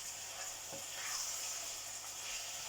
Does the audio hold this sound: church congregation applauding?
no